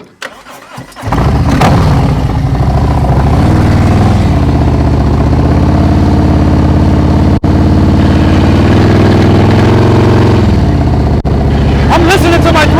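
Heavy motorcycle engine catching after a brief start, then idling and being held at slow riding speed, a loud, steady, throbbing low rumble with slight throttle swells that continues until it cuts briefly near the end.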